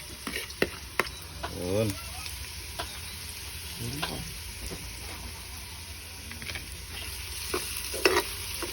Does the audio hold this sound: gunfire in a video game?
no